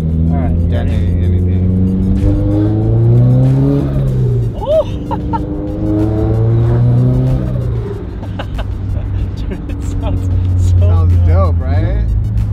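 A turbocharged Subaru BRZ engine revs up and holds near 4000 rpm, then drops back and climbs again, a loud, close droning roar with rising and falling pitch sweeps and people talking over it.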